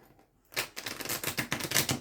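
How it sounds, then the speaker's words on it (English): A deck of playing cards being shuffled, silence then a sudden rapid flurry of riffled card flicks, close and crisp, continuing steadily to the end. "Shuffle this up again."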